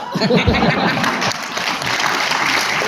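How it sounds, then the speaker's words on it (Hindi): Audience applause at a Jammu business seminar, a burst of clapping from the crowd mixed with some chuckling and laughter, with voices talking underneath. "इनके लिए तालियां।"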